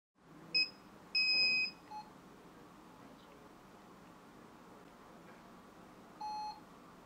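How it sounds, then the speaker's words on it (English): An Agilia syringe pump sounds its plunger head alarm in a quiet room: two short electronic beeps, the second longer, then a brief chirp, and a further single beep a few seconds later over faint background hum. "Control the disengagement and plunger head alarms."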